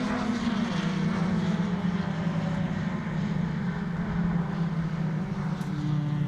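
Suzuki Swift Sport rallycross cars accelerating hard up toward the timing line, heard as a steady, loud engine drone that holds a constant pitch with no voices over it.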